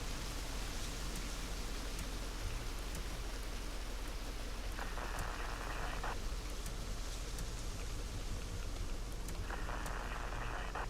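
Steady rain falls in Industrial Firefighter Simulator, an even, continuous hiss of wash that holds at a low, constant level throughout, with no voices.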